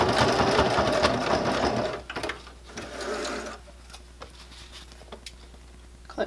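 A sewing machine stitches across a bag handle cover in a close, busy run, then pauses and makes short back-and-forth bursts of back stitching, followed by quieter ticks and handling noises.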